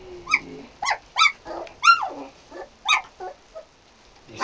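A nearby dog lets out a low growl, then a string of sharp, evenly spaced barks with a few softer whimpering yelps between them, loud and close.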